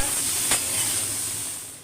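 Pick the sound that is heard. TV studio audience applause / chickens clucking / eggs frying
eggs frying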